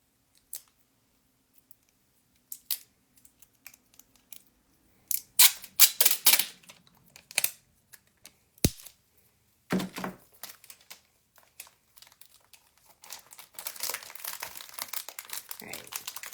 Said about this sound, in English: Just tape that all closed.